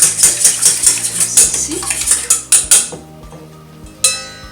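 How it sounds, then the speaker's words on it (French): A whisk beats eggs in a kitchen bowl, sending quick, rhythmic metallic clinks for about three seconds, followed by a lone sharp tap near the end; no one speaks. "je vais venir fouetter mes œufs"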